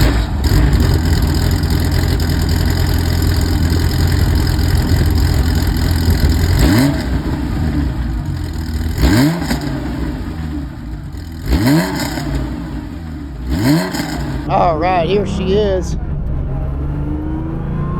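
A 1981 Porsche 911 SC drives on the Putnam Park road course, its air-cooled engine droning loudly before several sharp revving rises and shifts, with someone speaking briefly near the start.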